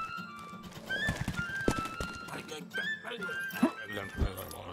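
Horse hooves clip-clopping at speed in the medieval video game Rustler, with neighs and a dog's bark mixed into the busy game sound while someone talks over it.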